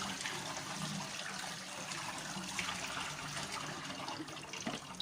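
Water from cooked pasta for koshari pours out through a strainer in a steady, rushing gush that holds throughout, fairly close and alone, with light clatter near the end.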